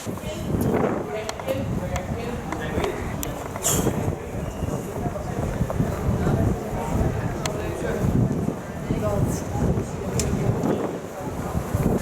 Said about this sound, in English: the wind is going absolutely crazy